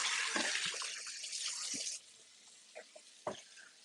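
Kitchen tap running into a sink while hands are washed, a bright loud rush for about two seconds that then cuts off, followed by a few faint drips and splashes.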